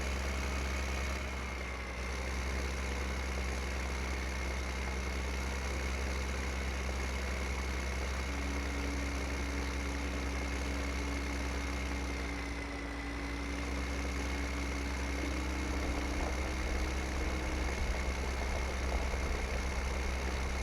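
An old-style tractor idling in Farming Simulator 15 makes a steady, continuous low engine drone that holds almost unchanged throughout, with a faint higher tone coming and going partway through and no talking.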